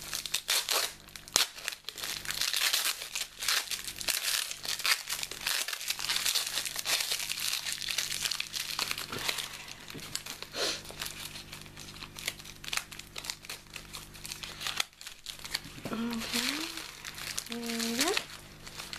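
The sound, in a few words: unwrapping a taped-up package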